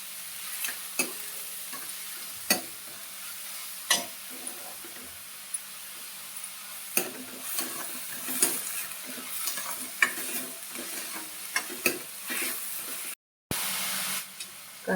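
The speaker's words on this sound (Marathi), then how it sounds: "कांदा चांगला परतून घ्यायचा." Onion is sautéed in oil in a pan and stirred, giving a soft continuous sizzle broken by repeated scraping and clacking strokes of the spoon, with a brief dropout near the end.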